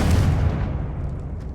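A Confringo fire spell bursts in the video game Hogwarts Legacy: a single close boom whose rumbling tail fades out over about a second.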